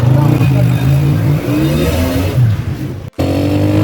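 A motorbike engine revs and drones steadily while riding through a busy chowk in Bhara Kahu, Islamabad, at school closing time, rising and falling in pitch, loud and close, with a voice talking over it throughout.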